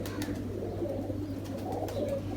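Soft cooing from old-breed pigeons, the Kane type, in a loft, steady low throaty calls repeating under a constant hum, with a few faint chirps and no talk.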